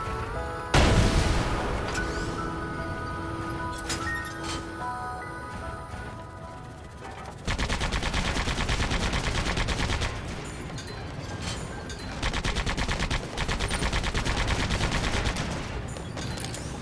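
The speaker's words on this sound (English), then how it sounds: "The tank gun should do the trick." Sand Land tank gun firing at a busted container, a sharp heavy blast followed by sustained rattling bursts of fire and crashing impacts, loud and continuous.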